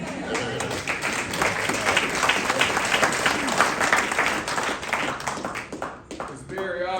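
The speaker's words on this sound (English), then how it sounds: "we got somewhat of a raucous crowd out there today" A lively crowd claps and cheers at a women's football clinic for Colorado football, a dense, loud, sustained applause with whoops that dips briefly near the end.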